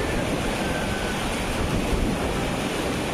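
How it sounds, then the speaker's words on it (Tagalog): High, storm-driven sea waves during a typhoon pound the shore right beside a house, a loud, continuous roar of surf with heavy wind buffeting the microphone and no clear breaks. "Mataas ang dagat, tataas pa po yan, oh."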